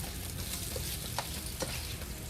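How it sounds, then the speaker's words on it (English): Dried-fungi vegan meats sauté in a pan, a soft, even sizzle with a couple of faint stirring clicks, quiet and brief with no voices. "Let's go ahead and saute these vegan meats in there."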